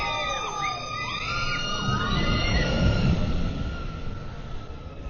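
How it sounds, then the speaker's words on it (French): People on the RC Racer ride at Disneyland Paris scream together in a sustained chorus of high, sweeping shrieks, heard from a little distance over a rumbling ride and crowd bed. "Et on voit les gens crier parce qu'au final"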